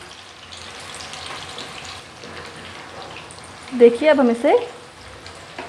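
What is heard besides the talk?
king fish (surmai) frying in oil in a pan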